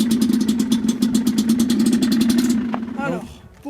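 A Rieju MRT 50 supermoto motorcycle idles just after starting, its small engine putting out a fast, even, buzzing putter up close. The idle cuts off near the end and a short voice follows.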